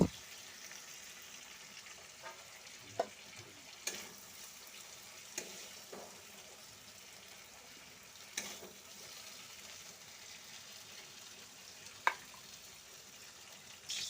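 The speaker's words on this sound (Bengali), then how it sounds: "আমার সবজিগুলো ভাজা হয়ে গেল এরপর আমি তুলে নেব" Chopped vegetables, including long beans, fry in oil in a pan for a khichuri meal, giving a soft, steady sizzle with occasional clinks of a utensil and bursts of stirring.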